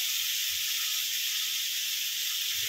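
Tomatoes sizzle in a hot pan with a steady, fairly soft hiss that holds evenly throughout, with no talking.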